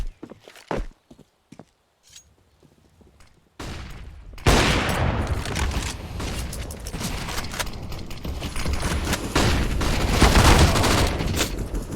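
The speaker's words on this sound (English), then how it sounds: "Shots coming through." Gunfire in a tactical shooter match breaks out after quiet footsteps, swelling into dense, loud bursts of overlapping shots and booms that carry on to the end.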